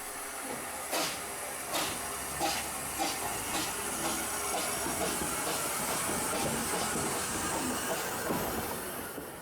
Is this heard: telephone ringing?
no